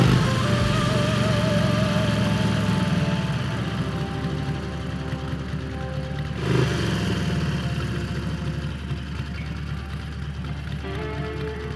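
A Harley-Davidson Iron 883 Sportster runs on the highway with a steady, throbbing mid-pitched engine drone and wind rush. The sound eases slightly in level partway through and stays continuous to the end.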